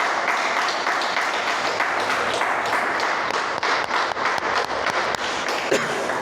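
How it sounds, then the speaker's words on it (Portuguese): A church congregation applauds during a sermon, a dense, continuous wash of many hands clapping that fills the room at steady loudness with no voices standing out. "Pode aplaudir o Senhor."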